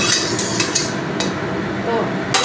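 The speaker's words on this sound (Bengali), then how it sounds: "এবারে তেলটা খুব ভালো মতন গরম হয়ে গিয়েছে আমি একটু খুন্তি দিয়ে নাড়িয়ে দিলাম" A spatula (khunti) stirs hot mustard oil in a pan, giving scattered metallic scrapes and clinks over a low frying hiss.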